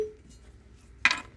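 A cork pulled from a bottle of Bardstown Bourbon Company Origin Series rye whiskey gives a single brief, crisp pop near the end, close by in an otherwise quiet room.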